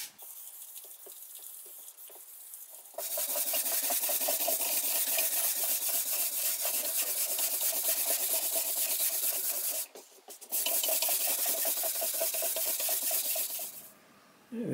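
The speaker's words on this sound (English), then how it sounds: "It's now been sanded up all the way up to 220." Wood of a mid century sideboard being sanded, with a steady, close rasping rub that runs for long stretches, stops briefly twice, then resumes.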